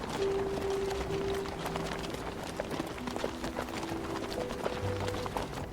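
Horse hooves clip-clopping steadily as a small party travels on foot and horseback, the beats close and fairly even over a bed of sustained music.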